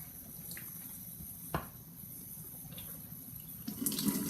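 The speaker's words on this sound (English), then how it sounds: "the final cup she will be filling up is Kangen water straight out of the device" A Kangen water machine pouring water into a cup, a faint steady trickle over a background hiss with a brief click partway through, quiet and with no talking.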